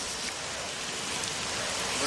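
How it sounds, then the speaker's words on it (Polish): Heavy rain pouring down in a dense, constant hiss, loud and close, with no let-up. "Cholerny deszcz."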